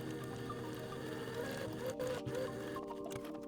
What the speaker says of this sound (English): Sew the length of the panels together,